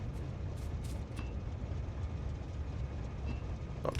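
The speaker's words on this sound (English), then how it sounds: "Not time to take that train for a walk." Steady rumbling train in the Factorio video game, a continuous low rolling noise with faint clicks and whirs over about four seconds, no talking.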